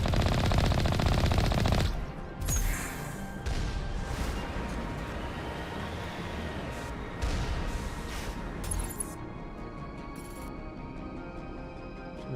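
Rapid machine-gun bursts and scattered shots in a video game firefight along a ridge, loud and dense at the start, then continuing as steady sporadic gunfire with impacts throughout.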